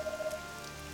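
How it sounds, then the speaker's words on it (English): Steady rain falls in the 1996 Sega Saturn game Airs Adventure, an even wash of pattering with no talking over it. "So now it's raining because I think when the wall in the sky above broke, the water that comprised of it is falling down."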